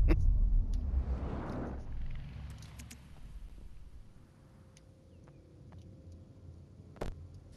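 A tank engine in the Battlefield 2042 video game gives off a loud low rumble that swells early on, then settles into a quieter steady drone. One sharp click lands near the end.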